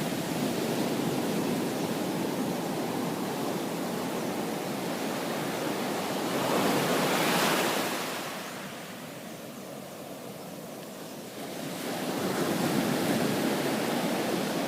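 Ocean surf washing onto a beach at Grand Rivière, Trinidad, a steady broadband roar that swells into a louder breaking wave midway, recedes, then builds again, with no voices.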